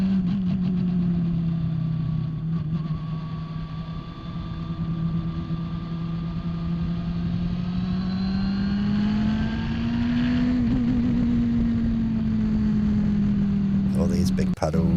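Steady, loud engine drone from a Radical SR3 race car lapping a damp track at The Bend. The pitch holds steady, then rises and eases as the throttle is worked, with the driver talking over it.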